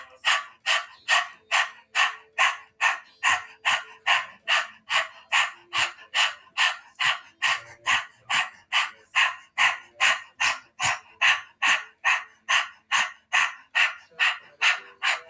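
Rapid, rhythmic breath of fire breathing, a yogic exercise: about thirty sharp, evenly spaced forceful exhalations through the nose over fifteen seconds, loud and close with no talking.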